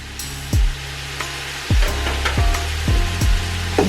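Sausage hits a hot pan with cooking ingredients for a creamy cheese sauce, sizzling and frying steadily with several sharp clatters of a utensil stirring, close and moderately loud, no talking.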